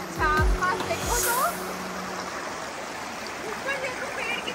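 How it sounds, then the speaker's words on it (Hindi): Stream water rushing steadily through the forest at Lynn Canyon Park, a constant broadband wash heard from a distance, with people talking over it near the start. "पानी की वॉइस दूर से आ रही है, अच्छा लगा"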